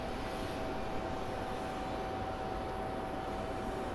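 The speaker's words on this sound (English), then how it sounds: "So let's watch our first plane touchdown." An airplane touching down at Phoenix Sky Harbor International Airport gives off a steady broad engine roar heard from a distance, constant and unbroken for the whole stretch.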